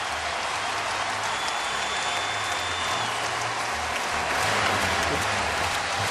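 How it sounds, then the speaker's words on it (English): A basketball crowd at Allen Fieldhouse on its feet during a Kansas Jayhawks home game against DePaul, a broad, steady roar of cheering and clapping that swells slightly toward the end. "they are standing and cheering here at Allen Fieldhouse"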